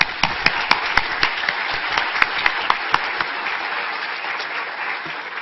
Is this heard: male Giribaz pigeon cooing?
no